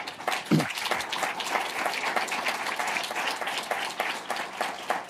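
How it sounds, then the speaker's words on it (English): Audience applause for an expert panel at a conference session on governmental AI policy, dense steady clapping from a mid-sized crowd lasting the whole stretch at an even level. "Let's give them a round of applause"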